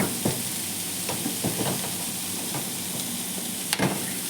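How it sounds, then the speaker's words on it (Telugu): Garlic, mushroom and chicken frying in a pan, a continuous hissing sizzle with scattered sharp clicks and scrapes as the pieces are stirred, close and fairly loud. "ఈ నాలుగు ఫ్రై చేసుకోవాలండి ఇలాగా వేగించుకోవాలి బాగాను బ్రౌన్ కలర్ వచ్చే వరకు వేగించుకోవాలి"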